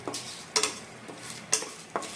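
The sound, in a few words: whole cumin seeds frying and stirred in a pan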